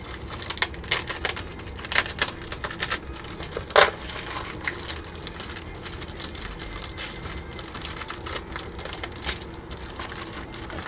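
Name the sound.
cutting open a plastic parts bag from a Tamiya model kit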